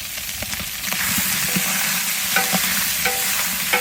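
Meat and vegetables browning in a stew pot for a pumpkin spice stew, a steady close sizzle broken by repeated scraping stirs and clinks of a utensil against the pot, with no voices.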